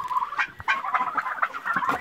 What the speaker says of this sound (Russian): Так, индейка у нас не замерзла.